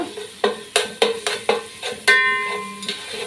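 Crushed ginger, garlic and green chili sautéing in a pan while preparing chicken biryani, with a series of sharp stirring clatters and scrapes over a soft sizzle, one longer hissing burst partway through.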